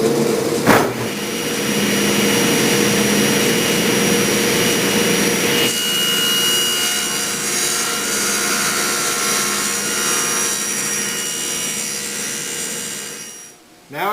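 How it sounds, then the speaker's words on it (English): Saw cutting the tenon cheeks on wooden stretcher pieces for a veneered sideboard, a loud, steady machine roar that runs for most of the clip with a short change partway, then stops abruptly at the end. "I'll do that for each side of the tenon on both stretcher pieces, and that will be the completion of the cheek cuts."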